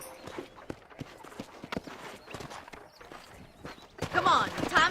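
Horse hooves in the video game Red Dead Redemption clop in a steady walking rhythm, with a voice faintly underneath and a louder noisy burst near the end.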